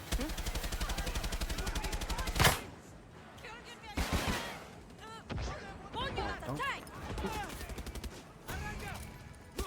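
Rapid mechanical firing rattles steadily, then louder booming cannon blasts burst out irregularly in the video game Far Cry 6, with faint voices talking underneath.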